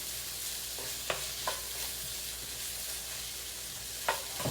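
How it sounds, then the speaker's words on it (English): A pot of peppers, onions, garlic and smoked sausage sizzles with a steady, even hiss, broken by a few soft spoon taps and stirring knocks, close and unaccompanied by voices. "peppers, onions, and garlic cooking. And then this smoked sausage goes with it so well."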